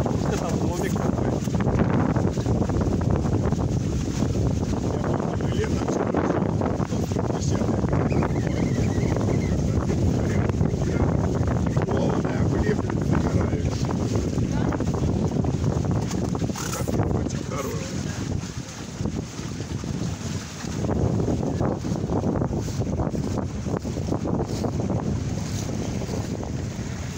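Strong, gusty squall wind at a shoreline roars steadily across the microphone, with a constant broadband rush and occasional buffeting surges, masking everything else.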